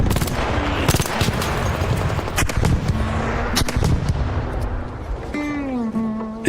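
Dense, rapid gunfire fills a video game firefight, sharp shots cracking nonstop over loud background game sound, with a rising whine near the end.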